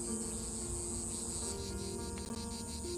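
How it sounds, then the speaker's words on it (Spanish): Dense, continuous chirring of cicadas on hot, dry days, a steady high buzzing drone with layered tones, loud and unbroken throughout with no talk. "Esto es lo que sucede con las chicharras. Su ensordecedor chirrido esconde muy bien la rama desde la que emiten."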